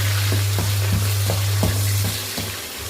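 Onions and curry leaves sautéing in a pan after mustard seeds, a steady sizzle broken by a few clinking stirs at a roughly regular pace, with a low constant hum beneath, close and moderately loud.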